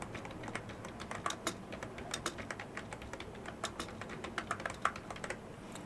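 Steady manual typing on a computer keyboard while entering a journal article's details, a quick uneven run of close, crisp keystrokes over a low background hum with no voices.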